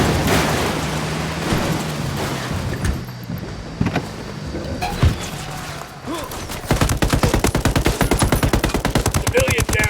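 Sustained machine gun fire in Ghost Recon Wildlands on PS4: scattered shots and bursts give way to a dense, rapid rattling stream of loud automatic rounds over a busy battle background.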